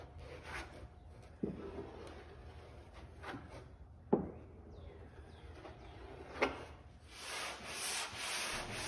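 Cured epoxy on a wooden boat hull being sanded in slow, soft rubbing strokes with a few sharper scrapes, close and quiet, growing into steadier hissing friction toward the end, with no voices.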